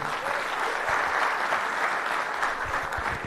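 An audience gives a professor a warm, continuous round of applause from many hands, even and steady for a few seconds without pause.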